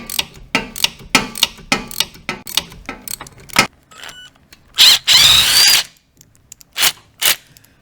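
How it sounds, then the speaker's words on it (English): A 10mm bolt is taken off an ATV with a power tool: a series of sharp rhythmic ratcheting clicks, then a loud whirring burst of about a second, followed by a few metallic clacks, close with no talk. "That's a 10mm bolt,"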